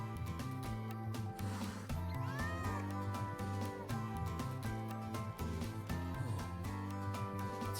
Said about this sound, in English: It doesn't seem to be a cat registered with the academy.